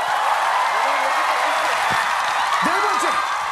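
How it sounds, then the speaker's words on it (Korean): A Korean TV variety show studio audience applauds in a dense, steady clatter that continues for several seconds, with voices calling out over it. "박수 한번 크게 주세요."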